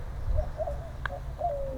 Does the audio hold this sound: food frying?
no